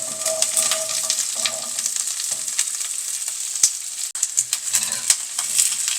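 Onions fry in hot oil in a pan for onion sambar, a loud, continuous crackling sizzle nearby, with scattered sharp pops and brief scraping clicks.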